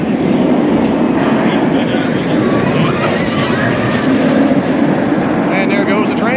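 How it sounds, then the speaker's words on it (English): A roller coaster train, Batman the Ride at Six Flags Over Texas, rumbles steadily and loudly past, with continuous rolling noise and faint squeals, while voices murmur in the background. "And there goes the train, yeah."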